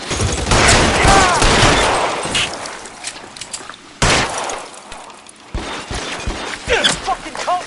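Gunfire in the video game L.A. Noire, a burst of rapid shots with glass shattering, then a sharp single report and more scattered shots, loud and close, mixed with game sound and shouting.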